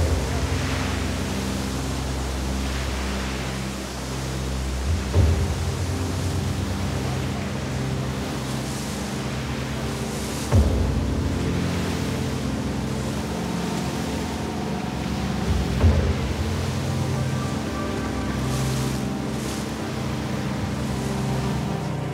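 Heavy ocean surge rolling in and crashing onto a rocky shore, a continuous roar of surf with three louder swells breaking at regular intervals, close and powerful.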